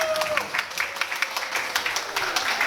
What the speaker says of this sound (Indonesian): kasih tepuk tangan dulu biar semangat.